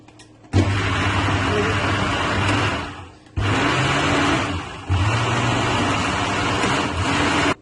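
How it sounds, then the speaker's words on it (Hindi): Blender whirring through cooked lentils, wheat, barley and mutton stock for shahi haleem, loud and steady in three bursts, the motor dropping out briefly between runs. "इसको ब्लेंड करती हूँ।"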